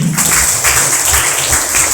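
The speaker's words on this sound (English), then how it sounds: "Clap for Janvi" A school audience at a Shivajayanti celebration at a gurukul claps for a girl's performance, a loud, close, rhythmic burst of applause pulsing steadily throughout the short moment.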